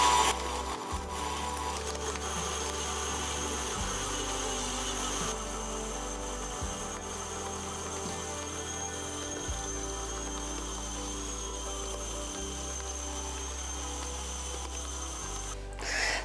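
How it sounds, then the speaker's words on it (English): Stand mixer kneading cinnamon roll dough, a steady close mechanical whir with a faint rhythmic thump as the dough turns, running alone without talk. "it's just going to have to mix for about 5 minutes"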